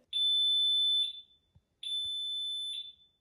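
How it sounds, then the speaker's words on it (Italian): Miele tumble dryer warning beep for a full condensate container: two long, steady high-pitched electronic tones about a second each, separated by a short gap, clear and alone with faint handling noises. "l'avviso acustico che avete visto a inizio del video"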